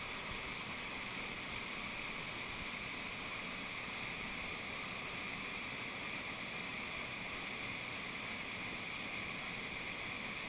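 Steady, unbroken rush of a waterfall and mountain valley stream, a constant dense hiss, with no voices.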